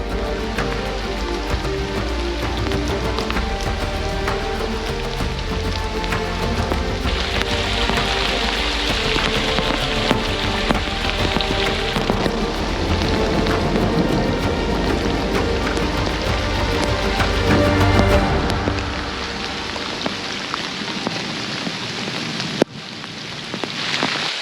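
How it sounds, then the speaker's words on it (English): Heavy rain pours in Madera Canyon in Arizona's Santa Rita Mountains, a dense, steady roar of drops with distant thunder echoing off the surrounding mountains. It eases somewhat near the end. "The rain's really starting to let loose now."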